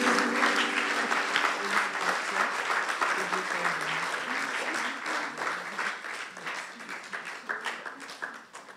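A church congregation applauding after a preacher calls for praise, with dense, loud, sustained clapping and some crowd voices that slowly thin out over several seconds.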